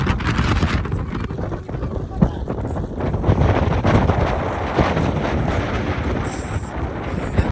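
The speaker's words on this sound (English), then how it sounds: "the wind today made it impossible for me to be able to talk to the camera without the really loud rushing wind noises" Strong wind buffeting a microphone outdoors in Iceland, a loud, continuous low rumbling roar with gusty swells and no pauses, heavy and close, with no voices.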